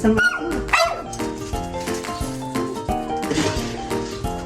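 A dog barks and yips over and over in short, uneven bursts, close by and fairly loud, with some whimpering mixed in.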